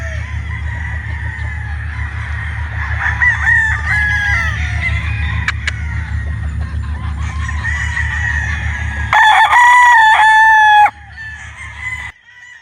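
Gamecock roosters, a Sweater Boston and a Pea-comb, crow one after another over a low steady hum, several long drawn-out calls with a loud, close crow near the end.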